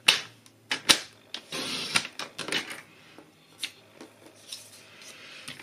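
Paper is cut into strips for a small paper craft box, producing close, crisp snips and sliding scrapes in an irregular rhythm, louder at first and fading to lighter handling.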